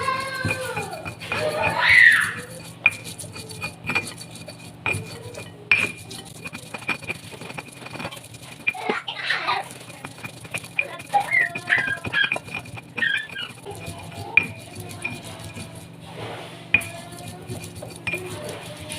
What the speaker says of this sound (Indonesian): Kita ulek bumbu-bumbu halusnya, beri garam sedikit biar mudah mengulek cabai.